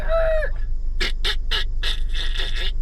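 Geese call in a series of loud, nasal honks, about five bursts after an opening cry, close by and standing alone above a low steady hum.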